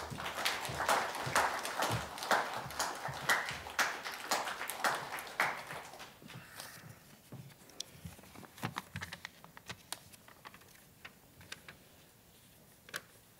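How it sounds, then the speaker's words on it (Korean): Dense applause from an audience at a Korean literary award ceremony, loud at first and thinning after about six seconds into scattered, fading claps. "박수 부탁드리겠습니다."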